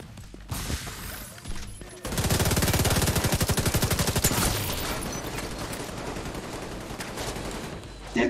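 Enemy machine gunners hammer out sustained automatic fire in the video game The Division 2 during a Potomac Event Center mission. A long, loud, rhythmic burst follows a few scattered shots, then trails into echoing distant gunfire.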